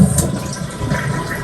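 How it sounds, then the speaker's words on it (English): Glacier Bay dual flush toilet flushed with the supply valve shut off, a short loud rush of draining water swirling close by, with no talking. "Now, with no more water coming in, with this valve turned off, we're going to flush the toilet."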